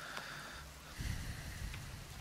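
Rain falls in The Forest video game, a faint steady hiss of drops with a soft low rumble swelling midway, no voices over it.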